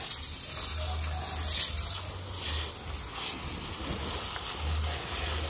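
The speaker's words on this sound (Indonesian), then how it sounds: "Kita siram banyak." Water splashes and patters steadily as a young aglaonema plant in a pot is watered generously, a soft close hiss with faint low hums in the background and no talking.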